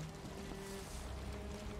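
A wooden longship sets sail on the open ocean in Valheim, with a steady wash of water and wind running continuously at moderate level. No one speaks.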